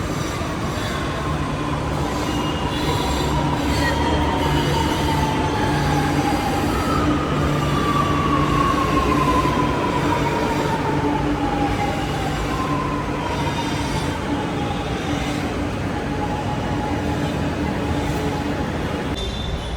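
A metro train near Vadapalani metro station in Chennai rumbles loudly and steadily, with wheels squealing in long sliding tones over continuous track noise.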